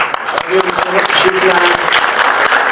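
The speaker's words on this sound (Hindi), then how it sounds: "इनके लिए तालियां होनी चाहिए" Audience applause at a tribute event honoring a legendary singer: steady, dense clapping throughout, with someone speaking over it.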